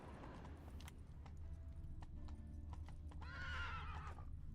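Roach, the horse in the video game Witcher 3, gallops with rapid hoof clip-clops, and then a loud whinny breaks out near the end. Scattered clicks and thuds are heard along the way.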